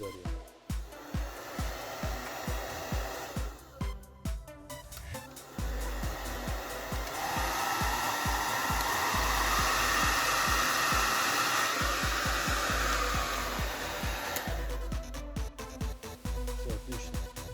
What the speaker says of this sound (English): The hairdryer works and blows hot air.